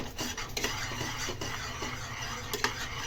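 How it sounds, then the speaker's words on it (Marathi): A spoon stirs a thick amla candy batter in a bowl, with close repeated scraping strokes and light clinks against the vessel. "व्यवस्थित बॅटर हलवून घेऊया"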